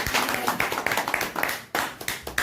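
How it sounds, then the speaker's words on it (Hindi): Applause breaks out for Madhubala madam at a Karpoori Thakur birth anniversary gathering at Hospital Chowk in Khagaria, with a dense, steady clapping from a crowd that keeps going throughout. "मधुबाला मैडम के लिए जोरदार ताली।"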